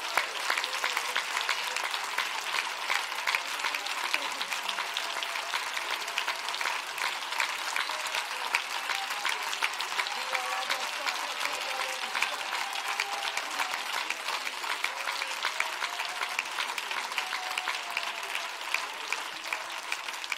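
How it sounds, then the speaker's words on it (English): A church congregation claps hands together, dense sustained applause filling the room loudly and steadily for about twenty seconds with no break. "So why don't you clap your hands again as if chains are breaking in this place?"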